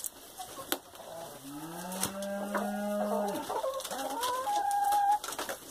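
Chickens clucking and calling on a small farm raising laying hens, with several close, drawn-out squawks and clucks overlapping one another against a quiet background.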